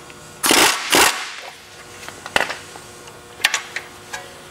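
An impact wrench loosens the lower ball joint nut on a motorhome's front suspension in two loud, short rattling bursts, followed by lighter metallic clinks and taps.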